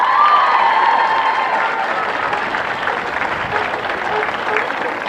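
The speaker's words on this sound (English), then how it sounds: "I just want a wee round of applause" An audience gives a round of applause for the two goalkeepers at an Ulster Ladies Minor intercounty Gaelic football match between Tyrone and Cavan, a loud, sustained wash of clapping with a few cheers that stays fairly even throughout.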